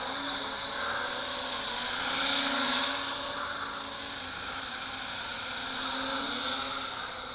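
A Syma X9 Flycar toy drone hovers nearby with a steady high-pitched whirring buzz from its small propellers, swelling and easing slightly as it flies.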